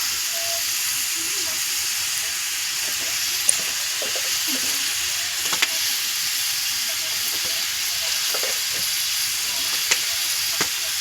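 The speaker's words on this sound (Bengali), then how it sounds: "এবার আমি মশলাটা ভালো করে কষি" Turmeric, chili and cumin powder sizzle in hot oil with vegetarian bottle gourd curry in a pan, a steady close hiss of frying with occasional soft pops and stirring clicks.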